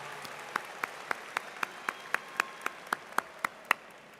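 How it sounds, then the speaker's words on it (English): Applause for graduates at a university spring commencement ceremony comes through as a fairly faint, steady run of crisp single claps at an even quick pace. "join me in giving each of you individually and all of you collectively a round of applause"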